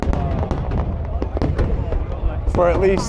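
New Year's Eve fireworks show over the Saigon riverside, with dense crackling bursts and pops under a steady crowd roar while someone talks close by.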